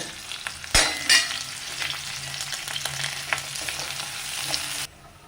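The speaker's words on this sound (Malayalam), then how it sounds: "വെളിച്ചെണ്ണ ചൂടായി അതിലേക്ക് ഉള്ളിയും കറിവേപ്പിലയും ഇട്ട് കൊടുത്തിട്ടുണ്ട്" Onion and curry leaves sizzle steadily in hot coconut oil, a continuous bright crackling hiss with a couple of louder spatters near the start, close and alone without talk until it cuts off.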